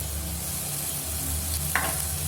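Two green chilies and a tablespoon of ginger garlic paste sizzle in a pan for veg pulao, a close, steady crackling fry with a brief stirring scrape near the end.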